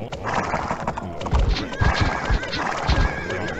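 In a strategy video game, horses whinny and hooves clip-clop in quick repeated bursts, fairly loud and close, with faint game sounds underneath.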